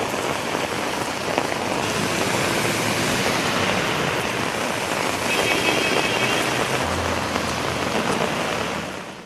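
Heavy rain pouring down across Bengaluru city streets, a loud, unbroken roar of rainfall holding steady from start to finish before easing off at the very end.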